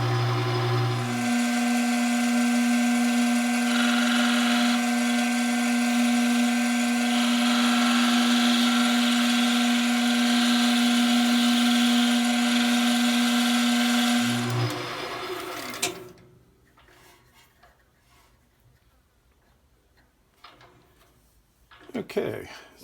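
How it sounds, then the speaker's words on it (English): A metal lathe turns a Danish-style pipe with a loud, steady whine and cutting hiss for about fifteen seconds, then spins down and stops, leaving a quiet room with faint handling noises. "when you're working with a metal lathe, you always have to keep these just razor sharp"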